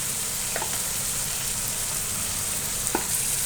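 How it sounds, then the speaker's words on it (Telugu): Oil frying in a pan while fish curry cooks, a steady loud hiss and sizzle throughout with a couple of faint clinks, close and continuous with no talking. "నూనె చూడండి ఆయిల్ ఇలా ఫ్రై ఫ్రై పైకి వచ్చేస్తుంది"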